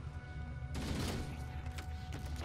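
Gunfire from the video game Halo: Combat Evolved erupts as a sudden burst of rapid shots after a quiet start, moderately loud and alone without talk, with scattered follow-up bangs.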